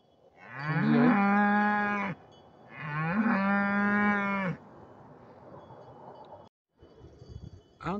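Cows, including a black one, on the Aubrac plateau along the Compostela route, giving two long loud moos close by, followed by quieter outdoor background noise and a brief shorter sound at the end.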